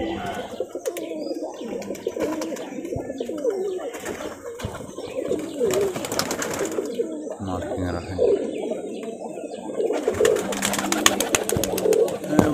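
Rajshahi high flyer pigeons coo repeatedly at close range with soft rhythmic calls, mixed with chirps and occasional wing flutters against background noise and faint talk.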